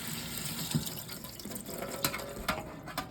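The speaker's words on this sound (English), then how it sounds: "just kind of rinse that bean juice off of them a little bit" Tap water runs steadily over canned black-eyed peas being rinsed in a sink, a continuous moderate splashing hiss with small bumps as the beans shift.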